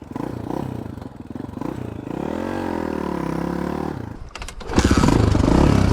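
Honda XR400 dirt bike engine fires up after a kick start, idling roughly then revving loudly near the end, a close, steady motorcycle roar with clattering mechanical noise.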